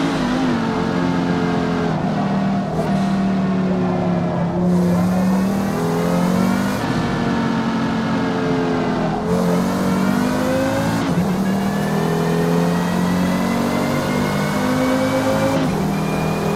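Race car engines in the racing video game Forza Motorsport, loud and close, revving high through repeated gear shifts with rising and dropping pitch over a continuous roar, occasional tire squeal, no talk.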